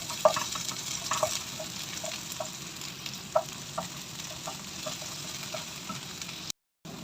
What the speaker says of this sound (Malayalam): നമുക്കിട്ട് നന്നായിട്ട് നമുക്കിത് സോട്ട് ചെയ്ത് കൊടുക്കാം.